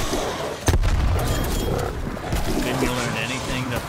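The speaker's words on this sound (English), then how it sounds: "Grenade!" A grenade detonates with a sharp, loud boom in Call of Duty: Black Ops Cold War Zombies, followed by a rumbling wash of game noise and growling creatures while voices talk underneath.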